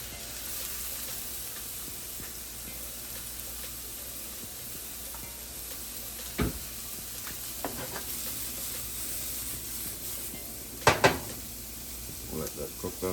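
Cabbage with Scotch bonnet, garlic, onion, green onions and thyme sizzles steadily in a pan for a Jamaican-style vegan patty filling, a constant frying hiss broken by a few sharp clinks and stirring knocks.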